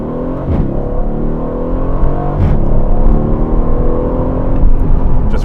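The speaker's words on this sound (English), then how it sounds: "running through the gears there." A 503 hp Aston Martin Vantage in track mode accelerates hard from inside the cabin, its engine note climbing and dipping through gear changes up to third, loud and continuous with a rising rumble and no talking.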